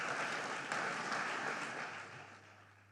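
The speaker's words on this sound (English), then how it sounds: "a round of applause for all the finalists" An audience at the Nigerian Economic Summit applauds the award finalists, with steady dense clapping that is fairly faint and distant and slowly fades.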